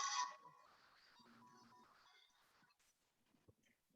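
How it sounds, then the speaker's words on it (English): A phone rings during a job interview: a short electronic ring tone sounds near at the start and then fades, leaving faint, scattered room noise afterward. "Always the phone is ringing."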